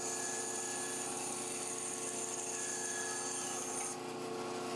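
A power tool runs continuously, cutting through a wooden jointed pikie minnow lure body, a steady, loud whining buzz that holds through and shifts slightly near the end, with no talking.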